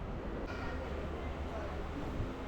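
A steady low rumble and rhythmic rattling from inside a moving passenger train travelling from Beed to Ahilyanagar, continuous throughout, with faint voices in the carriage.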